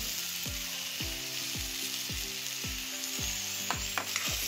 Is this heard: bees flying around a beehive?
no